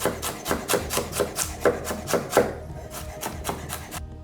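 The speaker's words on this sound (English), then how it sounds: "Slice your ginger, and then you need to julienne them into nice long strips." A knife julienning sliced ginger into long strips on a board, giving a steady run of quick, close chopping taps, about two per second, that loosen into lighter cuts toward the end.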